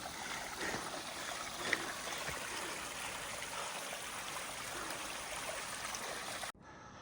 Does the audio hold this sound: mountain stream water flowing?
yes